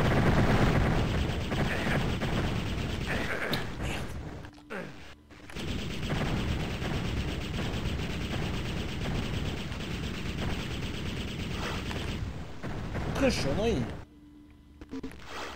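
Gunfire in the video game Heretic, a dense stretch of repeated shots and blasts aimed at the player, loud and near, with a brief lull midway and talking over much of it.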